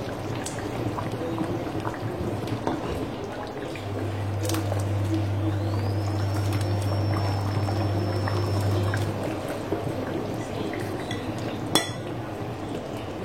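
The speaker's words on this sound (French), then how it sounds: "Là, je vais rajouter les oignons. Les oignons découpés pour donner du goût à la sauce." Chopped onions are tipped into a simmering fish sauce, making a continuous bubbling and wet pouring sound, with a steady hum and a few light clinks, then a sharp knock near the end.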